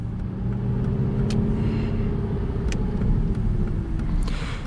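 A 2014 Aston Martin V8 Vantage rolls along at low speed from inside the cabin, its engine giving a steady, close low rumble with faint mild swells and no voices.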